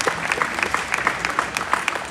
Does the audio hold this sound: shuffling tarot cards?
no